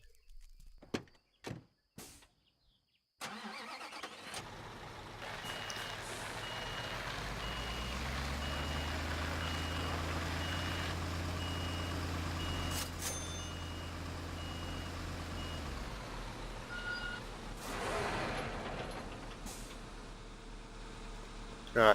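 A construction truck in Construction Simulator 2015 sounds a steady, evenly spaced reversing beep over a low diesel engine hum for about ten seconds. A few sharp thuds and knocks come before it, and clunks follow.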